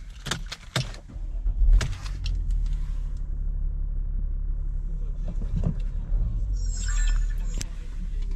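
A 2014 Mercedes GLE starting after its immobiliser is disarmed: a few key and switch clicks, then the engine catches and settles into a steady low idle rumble, heard close up.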